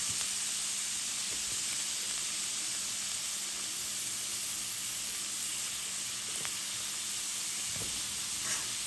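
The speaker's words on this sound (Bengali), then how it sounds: "টমেটো কাঁচামরিচ পেঁয়াজ একসাথে দিয়ে দিলাম, একসাথে ভেজে নিব।" Tomatoes, green chillies and onions fry together in a pan for egg bhuna, giving a continuous close sizzle and hiss that holds steady with a few faint clinks and no talking.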